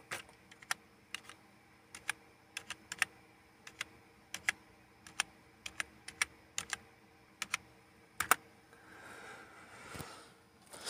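A password being typed on a computer keyboard while working in Linux driver administration: about twenty sharp, irregular keystrokes spread over eight seconds, close and clear, ending in a quick cluster of presses and a faint rustle.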